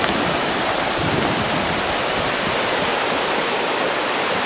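The flooded Pamisos river near Mouzaki roars loudly and continuously, a dense, close wall of rushing, churning water that never lets up and has no voices over it.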